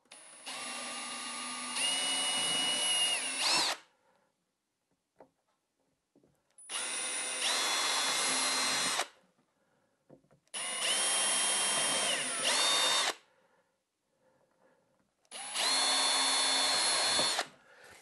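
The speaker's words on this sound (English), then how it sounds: "I'm going to drill a pilot hole." A power drill whirs in four separate bursts of a few seconds each as it drills pilot holes in wood, with quiet pauses between them, loud and close.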